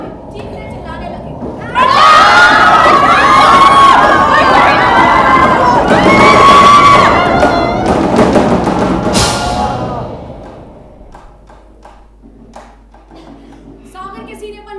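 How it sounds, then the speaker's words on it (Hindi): Sailors aboard a ship caught in a storm scream and shout together, a loud mass of overlapping voices that holds for several seconds and then fades into quieter rumbling. "उस पर सवार सभी नाविक चीखने चिल्लाने लगे"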